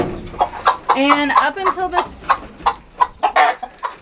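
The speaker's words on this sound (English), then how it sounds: "The chickens have just started laying" Chickens that have just started laying cluck and call repeatedly in short harmonic bursts, close by, while a person talks over them at a farm during morning chores.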